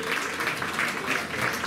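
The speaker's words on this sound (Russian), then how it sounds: "Давайте поприветствуем его бурными аплодисментами" An audience applauds to welcome a singer joining an orchestra at a concert, with a short burst of dense, steady clapping that fills the room.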